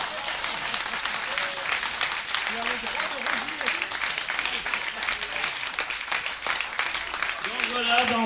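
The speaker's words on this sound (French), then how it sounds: "Et je demande des applaudissements" Audience applause at a live comedy stage show, moderately loud continuous clapping with scattered voices and a few cheers rising over it.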